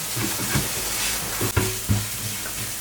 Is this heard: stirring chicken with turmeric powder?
yes